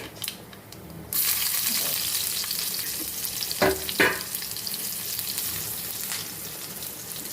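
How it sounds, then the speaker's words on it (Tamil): Cumin, mustard seeds and urad dal hit hot oil for tempering and burst into a loud, sustained sizzle and crackle after a quiet start, with a couple of sharp utensil clinks partway through. "நம்ம வந்து ஜீரகமும் கடுகுளுந்தம்பருப்பும் போட்டு தாளிக்க போகிறோம்"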